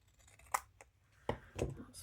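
Scissors cutting paper for a craft project, with a few sharp snips scattered across a quiet background, close and faint.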